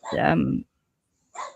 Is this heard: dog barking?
yes